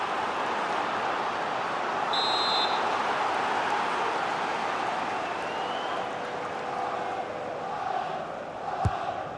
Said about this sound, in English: Well, just listen to the crowd.